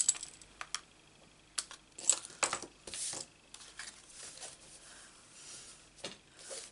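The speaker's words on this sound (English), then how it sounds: "Now this card has got a sticky out piece, which I'm going to cut off." Scissors snip a protruding piece off a handmade greeting card, close and quiet, with a series of short sharp cuts and paper rustles spread unevenly across the stretch.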